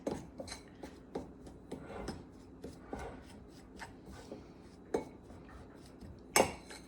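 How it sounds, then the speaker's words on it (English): Fork cutting butter or margarine into pumpkin streusel topping in a bowl, with quiet scraping, rasping strokes and light clinks of metal on the dish, repeated irregularly, one sharper clink near the end. "Now I'm using a fork for this because it's the easiest way to do it."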